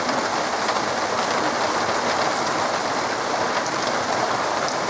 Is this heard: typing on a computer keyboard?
no